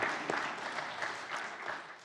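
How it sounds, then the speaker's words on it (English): A church congregation applauds during a Sunday service, steady sustained clapping from many hands filling the room throughout, with no speech over it. "we can keep clapping"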